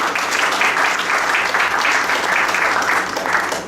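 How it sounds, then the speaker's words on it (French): An audience at an international tourism award ceremony claps steadily for a service director, loud and even throughout with no talk over it. "on peut l'applaudir également"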